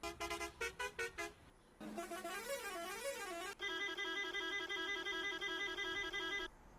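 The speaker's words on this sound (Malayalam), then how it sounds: "ബൈക്കിലെ ബസ്സിൻ്റെ ഹോൺ" A bus horn fitted on a Hero Splendor motorbike blares in a quick series of short toots, then a long warbling multi-tone melody and a sustained chord, loud and close.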